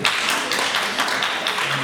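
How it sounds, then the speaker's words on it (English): An audience at a Veterans Day event applauds, a brief, fairly even patter of many hands clapping together at moderate distance. "So give yourselves a round of applause."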